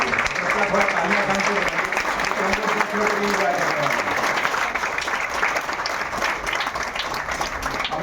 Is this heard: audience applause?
yes